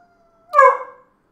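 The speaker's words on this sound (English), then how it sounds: "My dog's going wild." A single short, loud dog bark or yelp with a howling tone cuts in after a faint whining tone and fades within half a second, alone and close.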